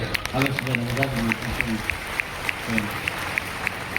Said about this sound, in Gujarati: જરા તાળીઓ મળવી જોઈએ, જોરદાર તાળીઓથી વધાવીએ